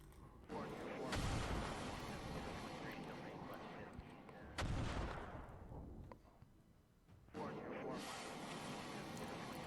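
Anti-ship missiles launch during a naval battle video game set in a Russian Baltic Fleet versus Japanese Navy scenario. Three loud roaring launch bursts sound one after another, each tailing off into a rushing hiss, with a voice talking quietly underneath.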